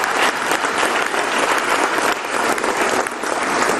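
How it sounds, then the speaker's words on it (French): An audience at a ceremony gives loud, dense, sustained applause from start to finish, heard alone with no talking over it. "Je vous demande s'il vous plaît d'applaudir le patron de la CNPS."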